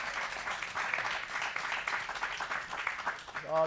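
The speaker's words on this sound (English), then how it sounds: "Give a round of applause" Scattered applause from a seated audience at a women's health care session, fairly faint and uneven clapping that swells and dips, with a voice starting to speak right at the end.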